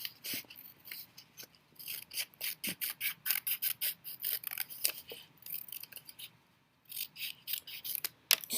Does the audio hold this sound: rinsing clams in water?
no